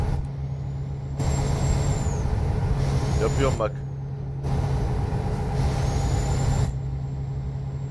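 A truck's air brake hisses in Euro Truck Simulator 2 multiplayer, several short pneumatic bursts over a steady engine drone while someone talks throughout.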